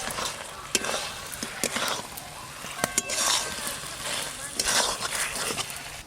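Fried cabbage is stirred into Manchurian sauce in a pan, giving repeated scraping strokes over a steady sizzle, close and fairly loud, with someone talking between the strokes.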